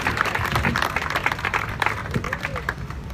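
Crowd applause at the inaugural Steps for Life 5K charity event for a marrow registry in New York City, a steady outdoor wash of clapping with cheers and voices mixed in throughout.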